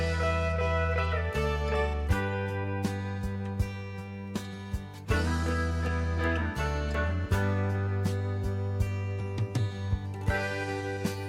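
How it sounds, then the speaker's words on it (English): A 1970s soft rock song plays steadily, full band with repeated strong note attacks across the whole stretch, without talking over it. "our first listen for the day is going to be"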